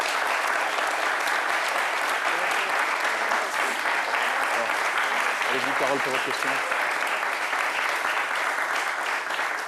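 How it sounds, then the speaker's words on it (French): Sustained applause and ovation from a studio audience fills the room, steady and loud throughout, while a presenter's voice speaks over it. "c'est le sens de ces ovations que vous entendez"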